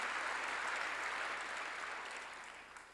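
Church congregation applauding together, a dense, steady wash of clapping that fills the room and fades slightly toward the end.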